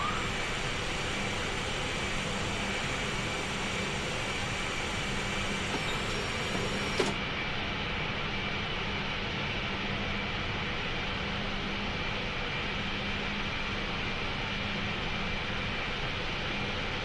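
Aboard an Alitalia Airbus A380-800 on approach to Rome Fiumicino, a steady roar of cabin and engine noise carries a single mechanical clunk as the landing gear lowers, after which the rushing noise continues.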